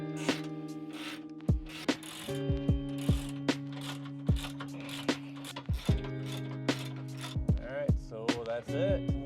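A ratchet tightens bolts on a shackle hanger kit for a 2016–2023 Toyota Tacoma. Its pawl clicks in short, uneven bursts of rapid ticks, close and clear, with no talking.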